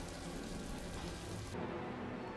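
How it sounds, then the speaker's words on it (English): Steady rain pouring during a House of the Dragon season 2 episode, a dense continuous hiss on a surface with low rumbling underneath, heard alone with no voices. "Then it's raining again, bro."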